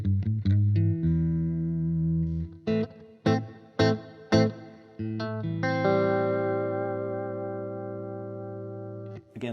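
A glassy Stratocaster fitted with 1950s-spec Tom Brantley pickups plays through a Fender '68 Custom Vibro Champ Reverb amp, struck chords and single notes with short choppy hits, then a long ringing sustained chord fading out.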